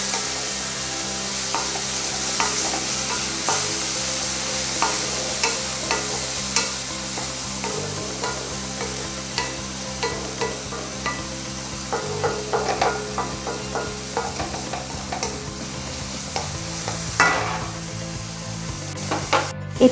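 Ginger garlic paste frying in a pan for a home-style chicken dish, a steady close sizzle broken by repeated scraping strokes of a spatula stirring against the pan.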